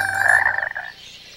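A single loud, close frog croak, a rough, buzzy call lasting under a second before it fades.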